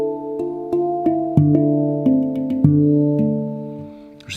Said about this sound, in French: à peine je parle proche du handpan, et ça fait des sons en fait